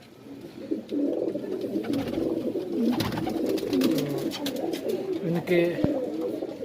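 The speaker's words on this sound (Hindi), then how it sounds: "ये सब मद्रासी कबूतर है" Male Madrasi pigeons in an indoor loft keep up dense, overlapping low cooing close by, with wing flaps and clicks, while someone talks over them.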